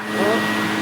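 A Shark NV360 Navigator upright vacuum cleaner runs steadily at close range, a loud continuous whirring motor roar that holds level throughout.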